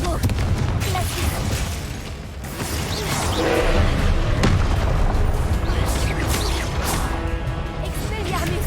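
Confringo blasting spells going off in Hogwarts Legacy combat, a dense stream of booming explosions and crashing impacts layered over game music and effects, loud and continuous throughout.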